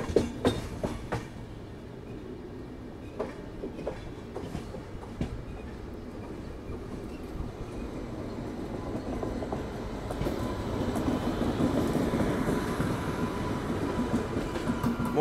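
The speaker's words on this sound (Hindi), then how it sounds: "Mumbai central Hisar Duronto express" The Mumbai Central–Hisar Duronto Express rumbles past with steady clickety-clack of wheels over rail joints, a loud continuous roar that builds toward the end.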